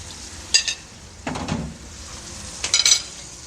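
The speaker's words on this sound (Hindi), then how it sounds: "इसको अच्छी तरह से 2 से 3 मिनट के लिए फ्राई करेंगे।" Tomatoes and green chili paste fry in a pan for a mattar pulao, with short sizzling bursts and clinks of a spoon stirring against the pan, coming in three separate moments over a quiet background.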